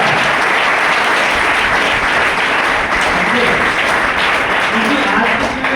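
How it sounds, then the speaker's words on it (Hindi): Loud, sustained audience applause fills a packed hall at a motivational business plan show in Panipat, Haryana, steady dense clapping throughout with crowd noise and no pauses. "दिल से एक बार जोरदार ताली दीजिए"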